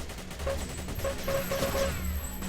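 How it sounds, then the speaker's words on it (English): A super high-powered machine gun fires in the shooter game Xonotic, a steady rapid stream of loud rounds rattling on for the whole stretch with no pause. "lastly we have this MG, this super high-powered MG"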